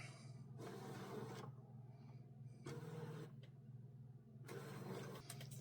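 A ScanNCut cutting machine feeds its mat in three short mechanical whirring bursts separated by pauses, quiet and close over a steady low hum.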